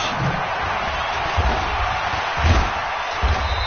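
A stadium crowd roars in a broad, steady wash at a Houston Texans versus Jacksonville Jaguars football game on PS4, loud and constant with occasional low thumps.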